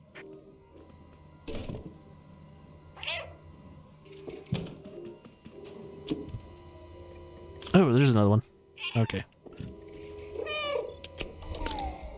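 A cat meows several times in the game Stray, with loud, wavering cries around the middle and softer ones later, set among thuds and clanks, while someone speaks briefly in between.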